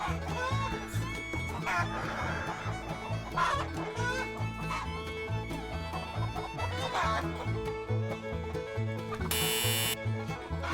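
Hens clucking among a small backyard flock of laying chickens that have stopped producing eggs, a busy, steady chatter with a buzzing hum underneath and a short harsh burst near the end.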